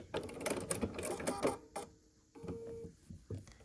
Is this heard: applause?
no